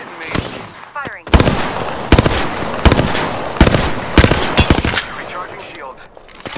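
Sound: gunfire in Apex Legends video game

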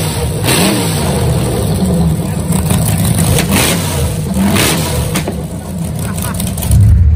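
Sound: engine of the world's fastest monster boat revving

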